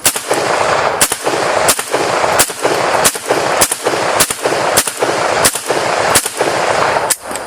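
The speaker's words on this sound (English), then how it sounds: "we had ourselves some pretty fast follow-up shots there" Rapid semi-automatic fire from an AK-47 rifle on a range, about ten sharp, loud reports spaced roughly half a second apart, each crack standing out clearly with no talking over them.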